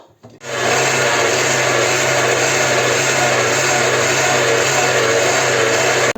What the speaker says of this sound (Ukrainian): Цибулю і капусту перемололи